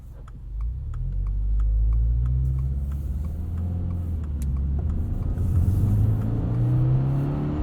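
A 2022 Subaru WRX GT with a CVT rumbles while driving, the engine note swelling and then climbing in pitch as it double downshifts, heard from inside the car with light ticking on top.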